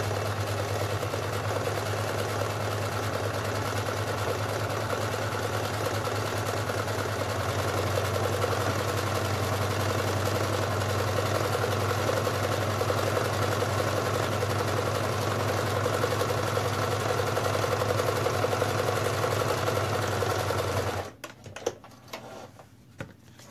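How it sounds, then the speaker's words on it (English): A sewing machine runs steadily while stitching up the sides of a fabric pumpkin with backstitching, a continuous mechanical hum with a low drone that stops abruptly near the end, leaving a few faint handling clicks. "So I'm just going to sew up both sides."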